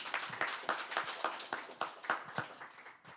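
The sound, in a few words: audience applause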